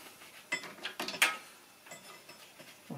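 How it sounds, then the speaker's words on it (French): A nut being undone on the shock absorber mount of a Mercedes W203 gives a few short metallic clicks and ratcheting scrapes, close and fairly quiet, in bursts over a faint background. "je retire juste l'écrou"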